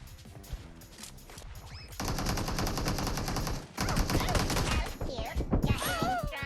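SKS rifle fire in PUBG Mobile rings out as rapid, dense game gunshots, loud and close and layered with other game effects, with a player's voice briefly underneath.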